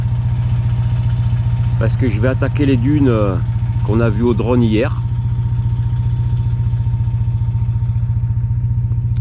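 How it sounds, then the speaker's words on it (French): A Citroën 2CV engine warming up on a cold morning in desert dunes, a loud, steady low chugging idle with a fast regular pulse throughout, while someone speaks briefly over it. "deux chevaux est en train de chauffer le moteur"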